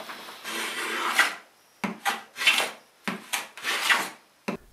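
Rasping strokes as oversize wooden ribs for an ES-335 guitar build are trimmed and cleaned up: five or six bursts of filing, each about half a second to a second long, close and fairly loud, separated by short pauses.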